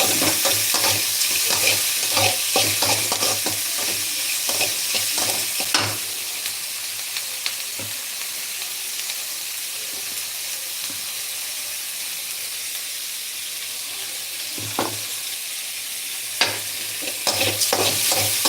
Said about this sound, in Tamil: இது நல்லா கொஞ்சம் வதக்கிறதா இருக்குது